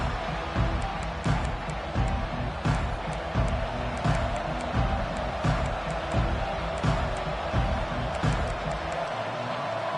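A home stadium crowd roars at a college football game against Notre Dame just after the opening kickoff: a dense, sustained wash of cheering with repeated dull thumps pulsing through it, heard from within the stands.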